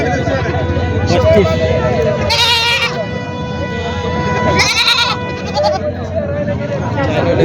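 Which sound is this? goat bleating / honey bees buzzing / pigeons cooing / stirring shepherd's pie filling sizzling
goat bleating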